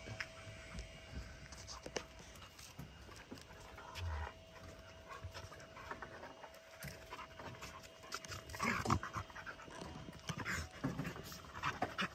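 Dogs pant steadily with quick, rhythmic breaths close by, alongside a crew changing a sailboat's roller furler, with faint voices and handling noises mixed in.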